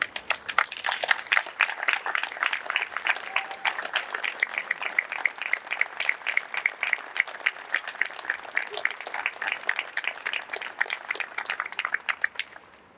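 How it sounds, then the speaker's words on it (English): At a public safety awards ceremony, the audience applauds veterans and active duty personnel, with individual claps clearly distinguishable in an uneven, lively patter that carries steadily for over ten seconds. "that we can give you a round of applause"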